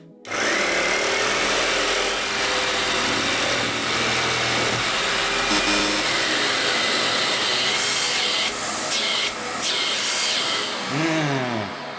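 A jigsaw cuts through wood mounted on a table fitted with a dust collection plate under steady suction, a loud continuous buzzing drone with brief pauses and whirring near the end, up close with no talk.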